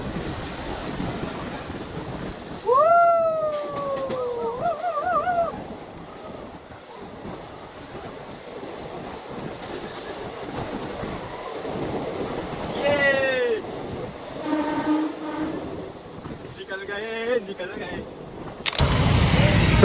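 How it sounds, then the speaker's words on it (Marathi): Crowded local train on the Mumbai to Lonavala line rumbling through a tunnel, a steady rattling roar with brief rising horn-like tones and passengers talking over it. "अभी ट्रेन गुफे में से जाएगी"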